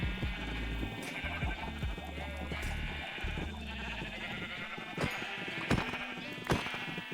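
Sheep in the Minecraft video game bleat repeatedly in a Nether survival setting, with several short, clear cries over a busy background of game sounds and no talking.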